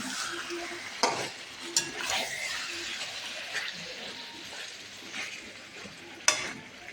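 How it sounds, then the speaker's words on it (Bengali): Meat being stirred and fried in a pan, a soft continuous sizzle punctuated by several sharp knocks and scrapes of a spatula against the pan, fairly close and without talk. "মাংসটাকে ভালো করে নাড়াচাড়া করে নিয়ে"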